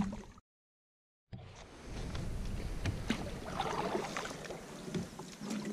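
A solo canoe on a calm, windless lake in the Boundary Waters, paddle strokes splashing water close by after a short silent gap, with soft dripping and sloshing and no talking.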